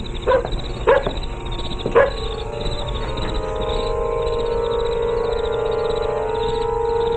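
A dog in a 1949 radio suspense drama barks in a few short bursts near the start, then falls quiet under a steady hum.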